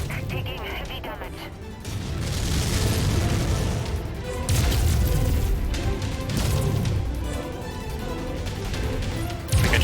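An ammo explosion in MechWarrior 5 brings a long, dense roar of booms and crashing debris, loud and sustained across the whole stretch, with heavy low rumble.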